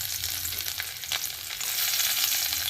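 Chopped garlic fries in hot oil in a pan as a fish curry is cooked, with a close, continuous hiss and crackle that grows slightly louder toward the end.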